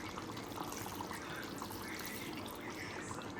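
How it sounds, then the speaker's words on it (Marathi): A bowl of water is poured into simmering chicken curry, giving a steady, close splashing and trickling wash that runs unbroken throughout. "ह्याच्यामध्ये मी आता 1 वाटी पाणी सोडून घेते."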